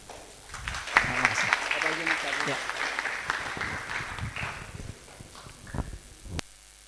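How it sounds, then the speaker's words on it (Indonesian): A seminar audience at an occupational safety event gives a short burst of applause that swells and fades, with voices murmuring underneath and a few low thumps. "Oke, tepuk tangan dulu buat"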